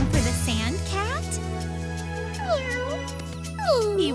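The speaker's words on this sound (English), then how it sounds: "Welcome home, sand cat." A cartoon sand cat meows several times in drawn-out, rising and falling calls, with a steady musical backing underneath throughout.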